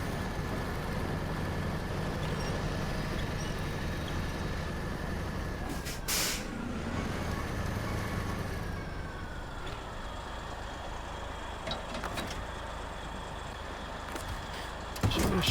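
Truck engine rumbling steadily in the SnowRunner driving game, with a sharp burst of air-brake hiss midway and a couple of fainter releases later, all close and continuous with no talk.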